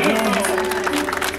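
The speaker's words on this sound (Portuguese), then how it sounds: "Palmas para Priscila e Palec!" An audience applauding a couple in a celebration, dense clapping mixed with crowd noise and voices throughout.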